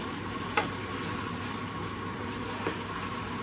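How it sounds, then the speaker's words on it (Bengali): Meat sizzles and fries steadily in a pan as it is sautéed kosha-style, a close, even crackle with a couple of brief sharper clinks from stirring. "এদিকে মাংসটা কষাচ্ছি"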